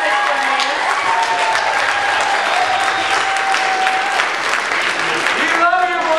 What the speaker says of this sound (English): I'm going to just ask everybody to give her a round of applause